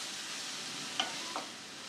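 Onion sizzles steadily in hot oil with ginger, garlic and mustard paste while being fried for a Bengali sour rui fish curry, with a couple of brief utensil scrapes over the constant hiss.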